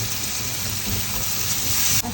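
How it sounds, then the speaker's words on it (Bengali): Butter with cinnamon, cardamom, bay leaf and chopped onion frying for a kachchi mutton biryani, giving a loud, steady close-up sizzle that hisses without a break until it cuts off abruptly near the end. "দারচিনি, এলাচি, তেজপাতা, পেঁয়াজ কুচি হালকা একটু ভেজে নিব"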